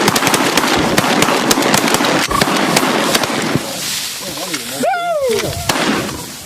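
Repeated sharp shotgun-like blasts during a bird hunt, many loud impulsive cracks in quick succession over the first few seconds, followed by quieter stretches with voices and a rising whistle-like sound.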